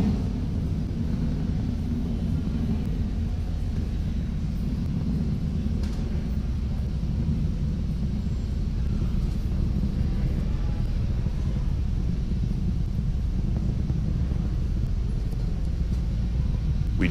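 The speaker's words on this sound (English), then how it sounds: "That Falcon 9 rocket is now throttling back up to full speed as it ascends through the atmosphere" SpaceX Falcon 9 rocket climbing after max Q during launch of the PAZ satellite, heard as a continuous, heavy low roar and rumble that stays steady and distant-sounding throughout, with no voices over it.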